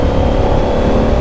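A motorbike exhaust roars loud and close in heavy traffic, a steady rumbling engine drone with no pauses.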